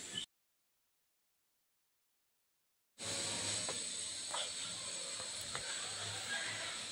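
A fish curry broth with cauliflower and potato bubbles at a boil, giving a steady hiss with faint pops. It starts after a brief silent gap and stays even in level.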